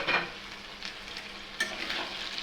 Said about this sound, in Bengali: ভাজা ভাজা হবো।